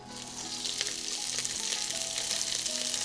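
Cabbage stir-frying in hot oil in a wok, a loud continuous sizzle with sharp crackles and clattering toss sounds, plus a faint tonal hum underneath.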